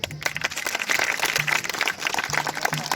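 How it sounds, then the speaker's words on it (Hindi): An audience at a school lamp-lighting ceremony in a GIC school hall claps steadily, a dense, sustained wash of many hands that continues evenly throughout. "इसका ताली बजाएं।"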